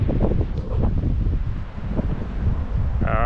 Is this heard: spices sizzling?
no